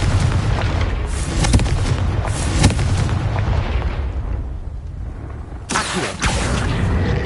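Confringo fire-blast spell explosions in Hogwarts Legacy, loud booming bursts over a dense rumbling battle din, with several sharp blasts and a renewed explosive surge near the end.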